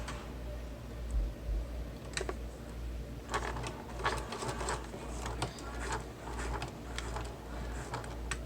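A sewing machine stitches along the edges of a convertible bag, a low motor hum under a fast rhythmic ticking that runs in several short bursts, close and fairly quiet.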